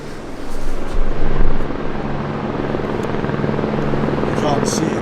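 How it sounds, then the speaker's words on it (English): A rescue helicopter flies over the Nepal mountains of the Langtang Valley, its steady low rotor drone running throughout at moderate distance, slightly louder in the first seconds. "they've got rescue helicopters"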